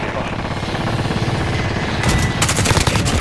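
Bursts of automatic gunfire in a military video game, loud and close, rattling continuously and intensifying toward the end, with voices faintly under the shots.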